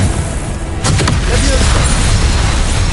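The Confringo explosion spell goes off in a Harry Potter video game, a sudden booming burst that swells into a loud, rumbling roar and holds for a few seconds.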